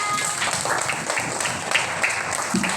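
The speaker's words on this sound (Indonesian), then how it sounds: "Beri aplaus untuk Nadira" A classroom of students applauding a classmate, a brief, moderately loud burst of mixed clapping that fills the room without pause.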